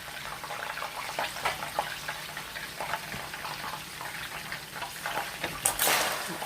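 Grease left with meat crumbs sizzles steadily in a pan as gravy is started, a close, continuous frying hiss with small pops and a scrape or stir near the end.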